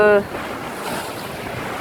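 Large ocean waves breaking against the cliffs of southwest Guimaras, heard from a passing sailboat, make a steady, broad wash of surf and wind noise that continues throughout.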